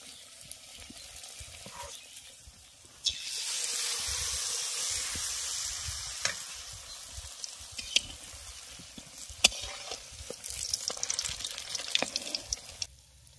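Carrot malpua batter frying in hot oil, a soft bubbling sizzle that swells after a few seconds and runs on with small pops and clicks, quiet and close, with no voices.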